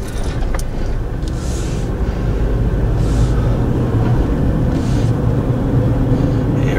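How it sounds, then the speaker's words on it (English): Car driving across a covered bridge at Kauffman's Distillery in Pennsylvania, heard as a steady rumble of engine and road noise from inside the vehicle, with soft passing swishes and no talking. "so we'll drive across here together"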